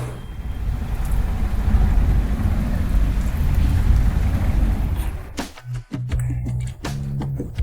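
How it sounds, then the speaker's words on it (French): Steady heavy rain pours down through a stormy night, a dense continuous wash with low rumbling thunder beneath, then breaks off abruptly near the end into a few short, sharp noises. "La nuit de l'orage."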